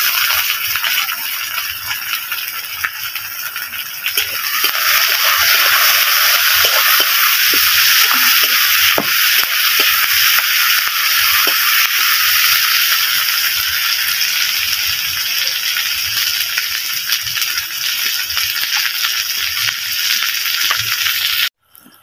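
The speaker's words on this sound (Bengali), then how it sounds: "দেখুন পেঁয়াজটা আমার ভাজছে" Onions fry in a pan with a bright, continuous sizzle that swells after a few seconds and crackles steadily up close until it cuts off abruptly at the end.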